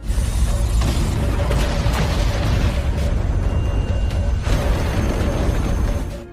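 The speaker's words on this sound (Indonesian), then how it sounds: "Ketika kedua kekuatan bersinggungan, ledakan super bombastis pun terjadi." A huge explosion as two powers collide in an animated fight scene, a loud, dense roaring blast sustained for several seconds with no speech.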